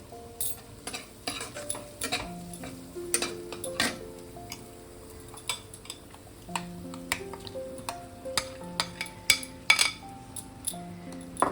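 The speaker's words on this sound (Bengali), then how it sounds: "দিয়ে এটাকে আমি আবারও ভালো করে মিনিট দুই তিনে কষিয়ে নেবো" Ground spice paste with cashew and grated coconut being sautéed in a pan for prawn curry, heard as irregular spatula clinks and scrapes against metal over a soft sizzle, fairly close, with no voice.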